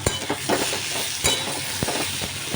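Tomato and vegetables sizzle in a pan for a khichuri of shyama rice, a close steady frying hiss with a few quick stirring scrapes and taps.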